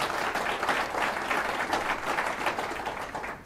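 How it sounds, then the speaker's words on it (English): A seminar audience breaks into a dense round of applause that holds steady for a few seconds and tapers off at the end. "Everybody should actually give him a round of applause"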